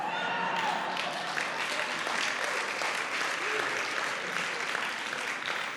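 A church congregation applauds during a sermon, a dense continuous clatter of many hands clapping throughout, with a voice speaking over it.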